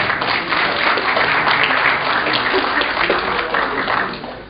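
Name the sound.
audience applause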